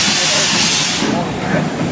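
LMS 4F steam locomotive 43924 vents steam at the Keighley & Worth Valley Railway spring steam gala. A loud, close, continuous hiss that eases slightly partway through.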